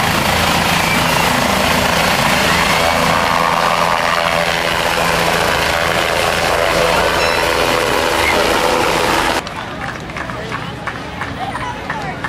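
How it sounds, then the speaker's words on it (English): Helicopter flying overhead at an outdoor village family reunion, a steady loud rotor and engine drone that fills most of the clip, then drops away near the end as people talk over it. "Did y'all see the helicopter?"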